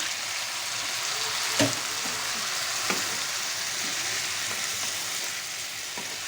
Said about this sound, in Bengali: এখন ভাজা ভাজা হয়েছে, টমেটোগুলো দিয়ে দিব।